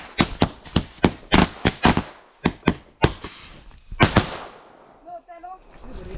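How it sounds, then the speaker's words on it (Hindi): Diwali firecrackers bursting in a Pahadi village, a rapid series of sharp, loud cracks, about a dozen close bangs with short gaps, followed by quieter background noise and a faint voice. "अभी पटाखे फोड़ रहे हैं"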